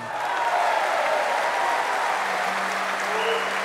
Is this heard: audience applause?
yes